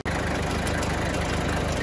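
A farm tractor engine idles steadily at close range, a continuous low rumble with a regular pulsing throb and no talk over it.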